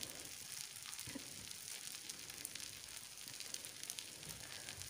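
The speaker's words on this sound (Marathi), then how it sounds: "आता दुसऱ्या साईडनेही मी साधारणतः 1 ते 2 मिनटं न झाकता शेकून घेते" A green pea paratha made with semolina fries in oil on a pan, a faint, steady sizzle that holds evenly throughout with no voices.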